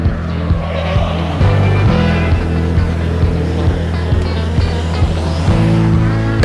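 Modified race cars circle Stockton 99 Speedway in 2002, their engines droning loud and close with repeated rising gear changes and revs as they pass, while a track announcer talks over them.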